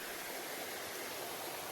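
Raikal waterfall pours steadily, a dense even rushing hiss of falling water, faint and unbroken over a brief moment with no voices.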